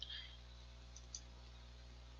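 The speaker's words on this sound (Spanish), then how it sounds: "le doy clic" Quiet computer mouse clicks, two small crisp taps in quick succession, sit over a low electrical hum while someone works through a purchasing web page.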